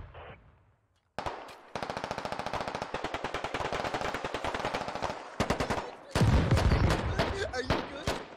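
Bursts of rapid machine-gun fire ring out in the video game Squad, starting after a brief near-silence, with heavy rattling volleys and a louder, booming stretch of shots toward the end; faint voices sit beneath.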